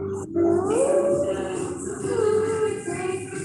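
German shepherd puppies howl and whimper somewhere near an open microphone, giving drawn-out, wavering cries that rise and fall at moderate loudness.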